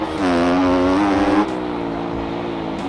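A 160 cc motorcycle engine revs hard in the MX Bikes racing game, a loud buzzing whine climbing in pitch, then dropping to a lower steady drone.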